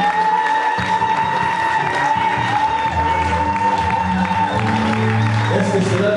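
A church congregation cheers and applauds, clapping and shouts blending into a loud crowd swell, while tonal music or voices carry underneath throughout.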